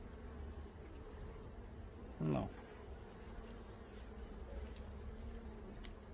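Honeybees humming in and around an open hive in the second half of the season, a faint continuous buzz with one brief louder pass of a bee close by and a short spoken word.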